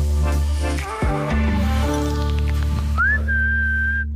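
A person whistling a tune in a French comedy sketch, loud and close, with a wavering melodic line that ends on a long steady held note.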